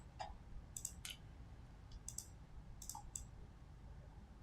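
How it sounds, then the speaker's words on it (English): Typing on a computer keyboard, a handful of soft scattered key clicks in short bursts, faint and close over steady background noise, no talk. "let me just type it out, right?"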